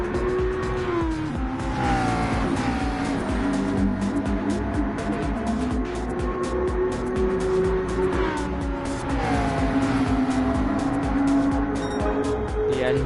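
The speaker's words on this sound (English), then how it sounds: "The engine's roaring as Suckle sets the fastest lap" Race car engines in the Gran Turismo 7 video game roar at Fuji, a loud sustained whine rising and falling through gear changes as cars pass, with bursts of tire squeal under the continuous engine note.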